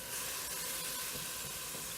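About a quarter cup of water simmers in a pan with fresh ground chuck, giving a continuous close hiss and sizzle, steady throughout with no voices.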